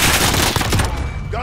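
Pistol gunfire in a shooter video game, a dense loud burst of rapid shots up close that tails off into quieter game ambience.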